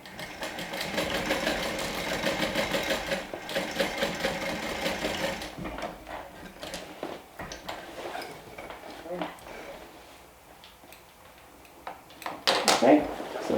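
A sewing machine stitches a fabric connector to the main fabric of a bag, running in a steady buzzing burst then pausing and restarting briefly, with a person talking over and between the stitching.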